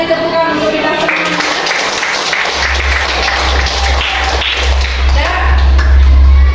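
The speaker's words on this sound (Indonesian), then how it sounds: "Sekali lagi beri tepukan untuk kita semua." Applause breaks out at a school teaching session in Padang, a dense steady clapping from a seated audience that swells and grows louder toward the end, with a low hum underneath.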